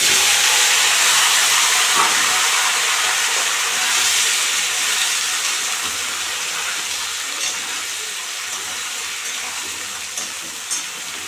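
Vegetables hitting a hot pan seasoned with black cumin and fenugreek, giving a loud, steady steaming hiss that fades slightly over time, with no talk.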